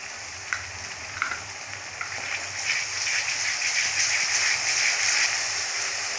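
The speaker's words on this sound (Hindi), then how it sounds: "प्याज को हमने भून लिया है, इसमें हम डाल देंगे लहसुन और अदरक का पेस्ट," Onions frying in a pan with garlic and ginger paste added, a steady bright sizzle with a few soft clicks and stirs early on, the hiss swelling slightly louder and fuller as it goes on.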